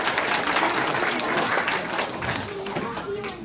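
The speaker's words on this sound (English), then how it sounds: "Please give them a round of applause for your assistance also" Audience applause at a live reptile show, a steady round of clapping from a crowd of children and adults, moderately loud with voices mixed in and fading toward the end.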